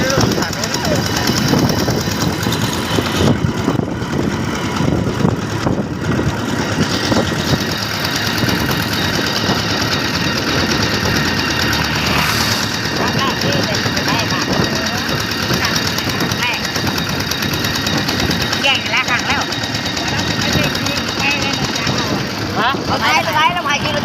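A farm tractor's diesel engine runs at a steady, rough, knocking idle, loud and close throughout, while people talk over it.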